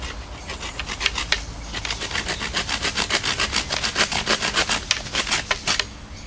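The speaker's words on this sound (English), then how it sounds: "Saw it with the Laplander." Laplander folding saw cutting through cane outdoors, with steady rhythmic back-and-forth rasping strokes that are close and loud, alone without talk.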